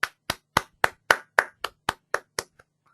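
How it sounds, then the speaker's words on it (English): Hand claps in a small online class, about ten sharp, evenly spaced claps from one close person in quick succession, then a faint final clap and silence. "can we have a huge round of applause for Darshan"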